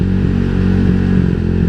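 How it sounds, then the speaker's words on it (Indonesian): A Honda Vario 150 eSP scooter engine that has not yet been tuned runs rough and sputtering up close. The loud, uneven idle chugs and clatters without a break. "Motor ngeberbet-berbet kalau belum disetting."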